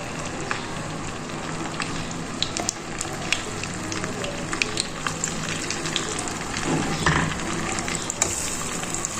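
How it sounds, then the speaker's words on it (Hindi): Pieces of marinated chicken fry in hot oil, giving a dense, steady sizzle full of crackles and pops that runs the whole time at close range. "ये मैरिनेट हुआ हुआ चिकन है, इसमें से यूँ एक पीस उठाना है और हमने फ्राई कर देना है"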